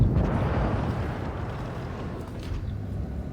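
A tank blowing up in the mobile game World of Tanks Blitz during a battle of Panzer IVs against an IS: a loud, dense, low rumbling blast that stays heavy and rolling throughout, with no talk.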